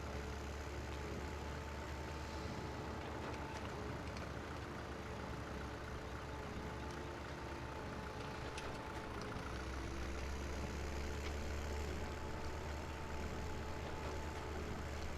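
An open-top Massey Ferguson tractor engine in Farming Simulator 17 drones at a steady, low idle-like rumble for the whole stretch, faint and unbroken, with a few light clicks over it and no talking.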